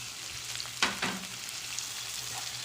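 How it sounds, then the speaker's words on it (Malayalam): Chopped tomatoes and onions sizzle steadily in a pan for chole masala, a constant frying hiss with a couple of brief stirring scrapes near the start. "നമുക്ക് 2 തക്കാളിക്ക ചെറുതായിട്ട് അരിച്ചത് അതിൻ്റെ കൂടെ ഇട്ട് കൊടുക്കാം"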